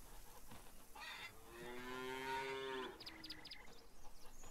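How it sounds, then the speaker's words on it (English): A cow in the Farmers Dynasty farming game gives a single long, rising and falling moo lasting a couple of seconds, inside a refurbished barn, with faint shuffling and a few brief higher calls around it; no voices. "The cows seem happier, I'm getting top milk production now."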